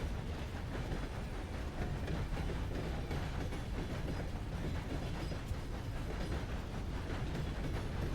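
A train in a video game rolls steadily along its rails, producing a continuous dense rumble with faint clattering that holds at an even loudness throughout, with no talking.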